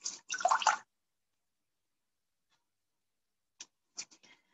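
Water being sponged or drawn from the bottom of a clay pot on a potter's wheel while throwing a tripod pipkin, heard as a short wet rubbing burst, then silence and a few faint scattered drips and taps near the end.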